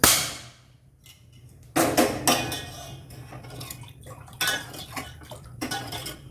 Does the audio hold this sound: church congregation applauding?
no